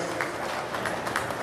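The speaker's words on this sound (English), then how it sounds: "give these kids a big round of applause" Applause from a county fair crowd for the young exhibitors at the Saunders County Fair dairy goat show: a steady, dense wash of clapping that holds evenly throughout with no break.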